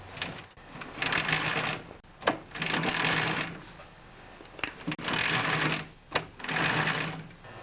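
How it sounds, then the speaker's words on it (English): Friction disc and wheel axle of a Murray Noma Craftsman snowblower being turned by hand during a friction disc replacement, giving several bursts of close rhythmic mechanical whirring and rattling separated by brief pauses, with no talk. "Turn the wheel axle, and it's going to turn it."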